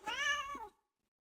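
A house cat gives one short, clear meow that rises and falls and then stops, with silence after it.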